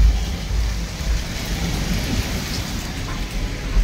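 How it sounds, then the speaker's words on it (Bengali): Heavy rain pours steadily while thunder rumbles low underneath, a dense continuous roar at a home with laundry out on the veranda, with no talking. "আবার বৃষ্টি আসতেছে"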